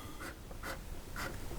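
Sailor Professional Gear fountain pen with a 21 karat gold fine nib scratching softly across paper in three short strokes, quiet and close.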